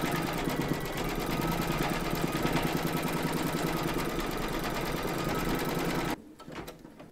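An embroidery machine stitches a quilting round on a crazy patch quilt block in the hoop, a close, steady, buzzing run that cuts off near the end and leaves quiet handling sounds.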